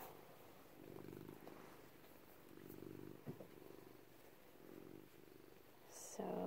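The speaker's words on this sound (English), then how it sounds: "doing a few more back stitches while Hedwig purrs to us" A pet cat purrs in rhythmic waves close by during hand back-stitching of an elastic waistband casing, soft steady cycles with a brief rustle and a sharper handling noise near the end.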